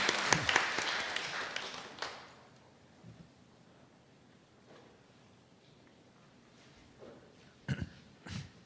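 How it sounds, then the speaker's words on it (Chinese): A congregation claps in welcome during a Taiwanese-language Sunday church service: a dense burst of applause fills the first two seconds, then fades to a quiet hall with a few faint thumps and rustles. "我们拍手欢迎他"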